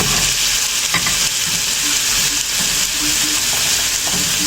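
Garlic frying in a pan, a loud continuous close sizzle with faint stirring scrapes throughout and no talk.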